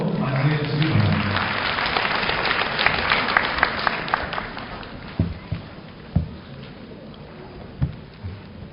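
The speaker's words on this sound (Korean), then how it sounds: "큰 박수로 맞이해 주시기 바랍니다" Applause at a university graduation ceremony as a speaker is welcomed to the stage, a dense, steady wash of clapping for several seconds that thins out into a few scattered claps and thumps.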